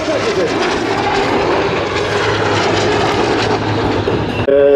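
A military helicopter at an air show roars loudly and steadily close by, a dense, continuous rumble and whine filling the whole clip.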